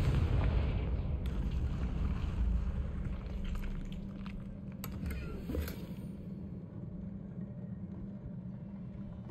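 Low rumbling blasts and debris noise from Confringo spell explosions in the video game Hogwarts Legacy, a sustained booming roar with a few sharper pops, moderately loud and fading slightly toward the end.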